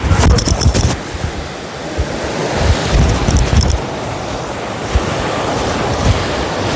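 Rushing water at Donabanda waterfall near Gottemukka, a steady broadband roar heard from about 100 metres away, with a few louder bursts and wind buffeting the microphone.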